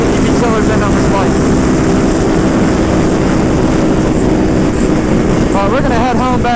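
A Ducati Panigale V2 with a VanDemon full exhaust and DB killers fitted roars loud and steady on a ride, its engine drone filling the whole stretch with brief higher pitch swells.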